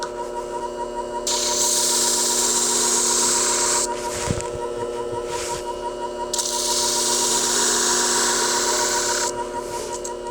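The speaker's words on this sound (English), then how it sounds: "not serrated on that side, so I'll just sharpen the one side." A sharpening machine whirs steadily as the non-serrated side of barber shears is sharpened at a 35-degree angle, with two long grinding passes separated by brief pauses and a small metallic knock between them.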